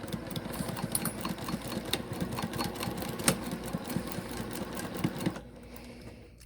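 A Juki TL2010Q sewing machine runs steadily, its needle stitching in a fast, even mechanical chatter, loud and close, then stopping abruptly near the end and leaving quiet.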